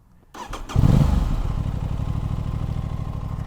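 Aprilia RS 660 parallel-twin sport bike (2023/24) fires up and rises into a loud, close, sustained rev that holds steady with throaty low-end grunt.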